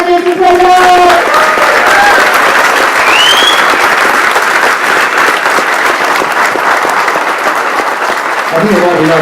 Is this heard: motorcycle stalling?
no